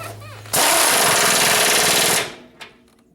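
An impact wrench tightens grade 8 bolts on a vehicle's suspension, one loud sustained hammering burst of close to two seconds that stops abruptly, with a brief clank after it.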